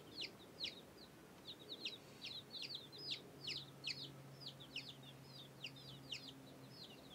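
A brood of 17 chicks in a brooder cheep continuously, many quick high peeps overlapping in a busy chorus, fairly faint against a low hum.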